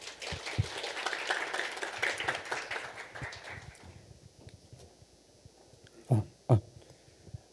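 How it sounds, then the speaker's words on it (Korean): Audience at a Korean tech talk gives a round of applause to welcome the next presenter, clapping fading out after about four seconds, then a couple of close bumps and soft sounds near the microphone. "박수로 맞아주시세요"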